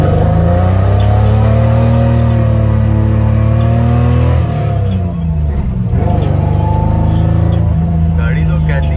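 A Mazda RX-8 rotary engine revs hard and loud while the car spins donuts, a sustained high-pitched wail that drops and climbs again with a rasp of tires, up close with someone talking over it.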